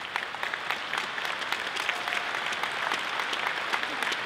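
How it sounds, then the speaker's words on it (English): A graduation audience claps steadily and densely throughout, a sustained wash of applause from a large crowd with no voices standing out. "Not so much clapping"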